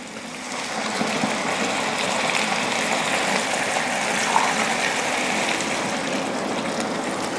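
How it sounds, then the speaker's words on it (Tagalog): Water poured into a cooking pot of afritada with tomato sauce, a steady, continuous gushing splash that holds at an even level throughout. "So, maglalagay din tayo ng tubig."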